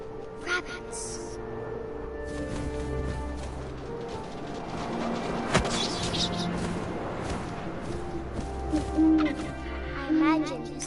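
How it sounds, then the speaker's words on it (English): Owl hooting in the game What Remains of Edith Finch, soft low hoots rising out of a wind-filled ambient bed with a few distant thuds, no talk. "And suddenly, I was an owl."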